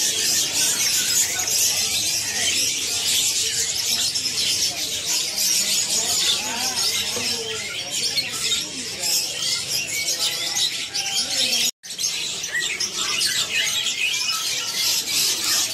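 Songbirds at a kiosk in Pramuka bird market trill and chirp continuously in dense, high overlapping song, with faint market voices underneath.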